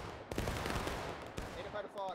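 Musket volleys crack out in War of Rights, a Civil War game event on a Washington Street map, with repeated dense gunfire bursts and distant shots under a voice giving orders.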